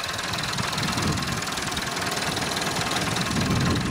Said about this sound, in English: Four cylinder, perfect engine.